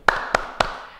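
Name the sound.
children's rhythmic hand clapping game, "Tepuk pagi hari"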